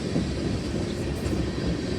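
CSX freight train M416 passing at Gaithersburg, a continuous low rumbling roar with rattling wheel noise, steady and moderately distant, no voices.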